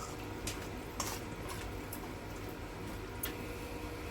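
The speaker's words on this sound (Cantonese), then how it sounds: "煲滾一大鑊嘅水，加少少鹽，放晒所有材料落去" Green beans, carrots and baby corn simmer in a large wok of salted boiling water, a continuous low bubbling rush dotted with a few light splashy ticks, no talking.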